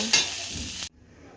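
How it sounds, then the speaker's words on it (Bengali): Cauliflower florets and potato pieces frying in hot oil, a loud steady sizzle that cuts off abruptly near the end, leaving quiet background. "ফুলকপি আলুগুলো ভালো করে ভেজে নেব"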